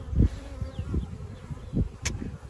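Honeybees buzz steadily around an open beehive at an apiary in a cold May, a close, continuous low droning hum with fluctuating intensity and a brief sharp click partway through.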